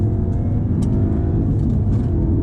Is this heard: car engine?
yes